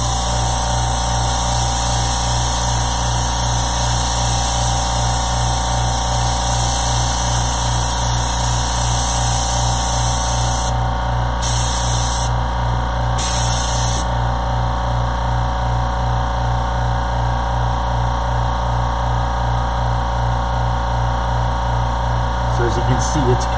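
A spray gun lays down HOK basecoat paint in a steady, loud, continuous hiss with a constant compressor-like hum beneath it, briefly cutting out twice before resuming.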